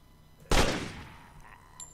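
A single loud gunshot in the video game Drive 4 Survival bursts out and decays with a short echoing tail, followed by quiet background hum.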